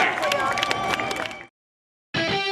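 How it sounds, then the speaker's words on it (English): At Wiscasset Speedway, a crowd applauds the race winner in victory lane, loud dense clapping and cheering with an announcer talking over it, then a sudden cut to silence before the crowd noise returns. "How about a big round of applause?"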